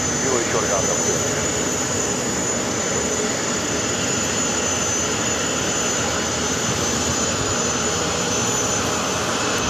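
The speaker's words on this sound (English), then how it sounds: "That is Lufthansa Flight 401 taking off to Frankfurt on the 747-400 Intercontinental" A Lufthansa Boeing 747-400 takes off from JFK bound for Frankfurt, its jet engines giving a loud, steady roar that holds evenly throughout, close and unbroken.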